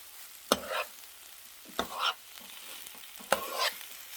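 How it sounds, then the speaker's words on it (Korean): Three distinct stirring strokes through aged kimchi (mukeunji) stir-frying in a pan, each a sharp scrape followed by a brief sizzle, close and fairly loud over quiet background. "이렇게 해서 볶아주세요."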